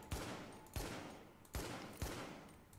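A Tactical ACR rifle in The Division video game fires four sharp, evenly spaced shots in a quick rhythm, each crack followed by a short ringing decay, fairly quiet overall and with no voices.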